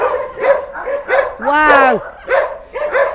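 A pack of Norwegian elkhound dogs barks and yelps close by, with a drawn-out howl in the middle, while people talk and exclaim over the noise.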